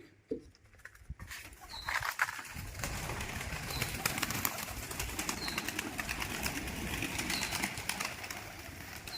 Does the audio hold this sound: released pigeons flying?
yes